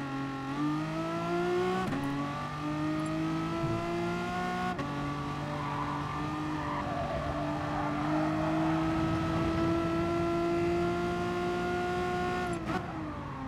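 A Mitsubishi race car's engine in Gran Turismo Sport on a rain-soaked track, revving loud and steady with rising harmonic whine and gear-change dips, a constant close roar throughout.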